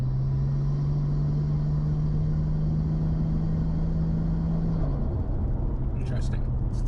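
A Nissan Skyline R34 sedan fitted with a turbo boost tee holds a loud, steady low engine drone as boost builds against the brake while driving, then the pitch drops and settles, heard from inside the car.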